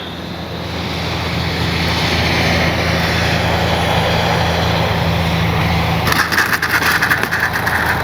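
An E-flite Piper Cherokee RC airplane flies at speed, giving a steady broadband engine and wind rush that holds for several seconds before turning choppy and fluttering, loud and with no talk.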